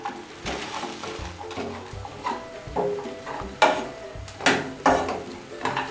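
Bread pieces being stirred through masala in a hot pan for spicy masala bread, with irregular scraping and tapping strokes close by, some louder knocks toward the end.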